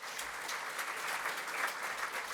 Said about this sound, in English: It deserves some applause.